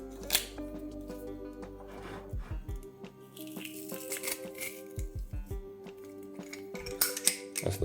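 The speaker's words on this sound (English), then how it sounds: "Get a garlic crusher, best tool in the kitchen." A handheld garlic crusher pressing garlic cloves in a home kitchen, giving a series of close crunching squeezes and metallic clicks over a background hum with a steady tonal drone.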